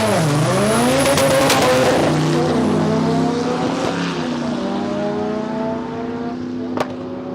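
Drag racing cars at Palmyra Raceway roaring down the strip, a loud engine howl with rising harmonic sweeps as they accelerate through gears, then fading into the distance; no voices.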